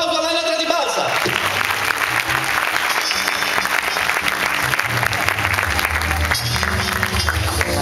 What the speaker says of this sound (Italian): Un applauso all'anatra di Balsa